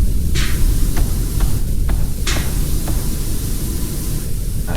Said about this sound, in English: Come on, swirly nozzle thing. Do your swirly nozzle thing.